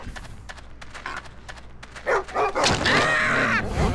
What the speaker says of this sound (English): he's getting bitten by a dog